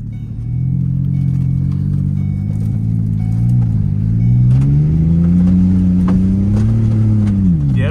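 Ford Escape engine revving hard as the SUV climbs a muddy hill, a loud continuous drone whose pitch rises and dips with the throttle, steady and close throughout.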